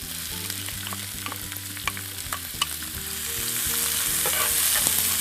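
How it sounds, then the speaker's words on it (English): Chopped onions, green peppers and tomatoes sautéing in olive oil in a skillet, a close, steady sizzle with stirring ticks that swells louder toward the end, with no talk. "Here I've got some chopped up onions, green peppers, and tomatoes, and I'm going to saute those in the oil."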